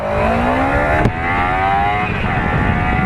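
A Kawasaki Ninja 300 motorcycle engine revs up loud and close, its pitch climbing steadily, then dropping briefly at a gear change before rising again, with no talking.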